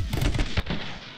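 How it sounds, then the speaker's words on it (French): Shotgun blasts in the video game My Friend Pedro, several loud booming shots packed close together with a sharp crack near the end, trailing into fading echo. "Le fusil à pompe est assez efficace aussi"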